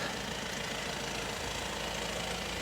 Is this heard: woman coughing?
no